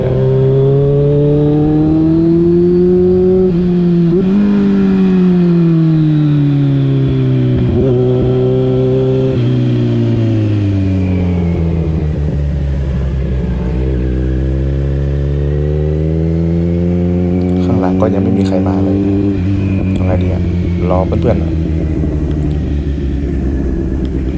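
A Kawasaki Z900 engine rumbles loudly and steadily while being ridden, its pitch rising and falling through gear changes and throttle shifts over a long continuous stretch, with wind noise and no talk.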